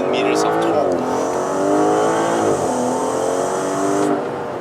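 A 2020 Aston Martin DBS Superleggera with a 5.2-litre twin-turbo V12 accelerates, its engine note climbing through rising pitch sweeps with brief dips at gear changes, loud and near for under five seconds.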